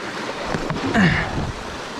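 Creek water flowing during a creek crossing on a mountain bike trail at Greentown in Pisgah, a steady broadband rush with a brief louder splash partway through, close to the microphone.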